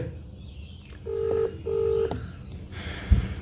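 Ringback tone of an outgoing phone call waiting to be answered: two short, steady electronic tone bursts in a double-ring pattern over a faint room hiss, followed by a brief thump.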